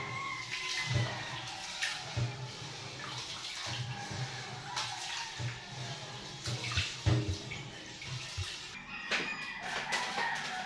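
A weak trickle of water runs steadily from a tap in a home kitchen while rice is being washed for cooking, a continuous faint wash with small splashes and clinks, and a rooster crows faintly in the background.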